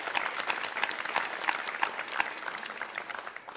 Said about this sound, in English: so I'd like to give them a round of applause, please